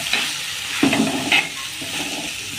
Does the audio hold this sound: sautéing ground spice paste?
yes